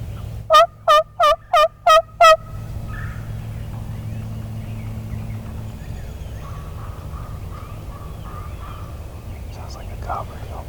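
A wild turkey gobbler calls with a quick burst of six loud gobbles at the start, then fades into quiet outdoor ambience with faint distant birds and a hushed voice later on.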